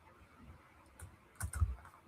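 Computer keyboard typing during a livestream, a few soft scattered key clicks building to a louder, quicker burst of keystrokes near the end, close and alone without talk.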